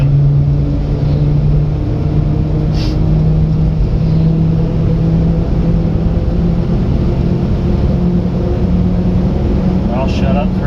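A Japanese mini truck drives along with a steady, continuous low engine drone and road noise, fairly loud and constant throughout, with no one talking.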